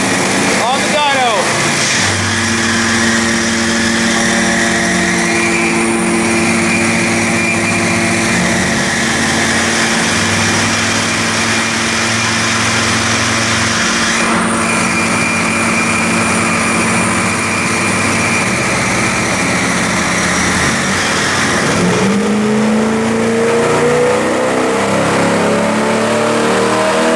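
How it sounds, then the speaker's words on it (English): A Pontiac GTO engine revs on a dyno, a loud, sustained mechanical roar with shifting tones that drops away near the end before climbing again, with people talking faintly over it. "Carrie's GTO on the dyno."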